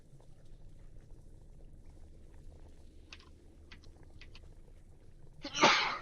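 A single sharp sneeze bursts out near the end, loud and close, after quiet background noise and a few faint clicks.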